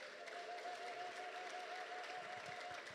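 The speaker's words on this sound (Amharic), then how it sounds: "ለዚህ አምላክ እልልታና ጭብጨባ እንሰጣለን።" A church congregation at a Protestant Ethiopian service claps in a dense, steady wash of applause lasting the whole moment, with a sustained high trilling tone running through it like ululation.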